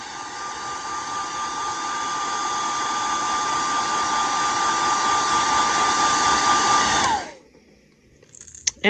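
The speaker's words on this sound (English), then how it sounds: "Give it a quick heat set." A heat gun blows steadily for about seven seconds, setting airbrushed paint on a fishing bait, a loud even whine and rush of air that cuts off abruptly, followed by a faint clatter.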